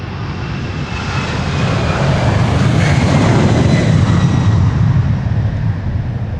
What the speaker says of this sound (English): this is United Airlines or United going to Houston in Texas, the 767-300 31 years old